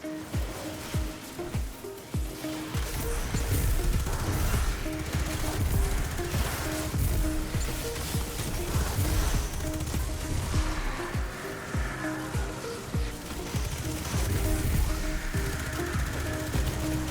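Rapid weapon fire in a PvP shooter video game, dense bursts of gunshots running continuously under a layer of game noise and music, fairly loud and sustained throughout.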